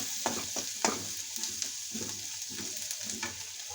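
Red and black chili powder stirred in a hot pan for tomato chutney, a soft steady sizzle broken by several scraping strokes of a spoon at an irregular pace; no talking.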